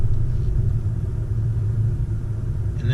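A 2017 Honda Civic with a solid 80A-filled rear engine mount pulls away under throttle in second gear, giving a steady, loud low engine rumble with continuous drivetrain drone and no talking.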